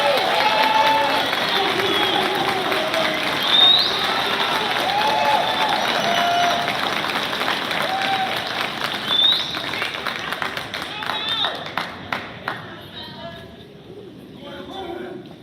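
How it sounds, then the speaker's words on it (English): A law enforcement graduation ceremony audience claps and cheers in a large space, with sustained applause and a few whistles that thin out into scattered claps and crowd murmur near the end. "Let's give a big round of applause for BLE 2206."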